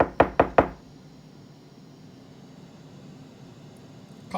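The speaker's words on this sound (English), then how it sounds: "I'm just generating some background noise by tapping on my table." Four quick sharp knocks from fingers tapping on a table, close and clear at the start, then fading into faint steady background hiss.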